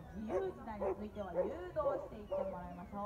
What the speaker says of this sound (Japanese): さあこのように群れの後ろから吠えて